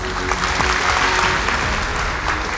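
A hall audience at a university graduation ceremony applauds, a thick continuous wash of many hands clapping at full strength throughout, with no voices standing out.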